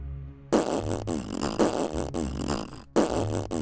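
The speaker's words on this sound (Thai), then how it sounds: "เสียงตดกระหึ่มไปทั้งท้องพระโรง" Cartoonish fart sound effects echoing through a throne room, several loud, long, rippling blasts in a row with a short gap before the last, booming and reverberant.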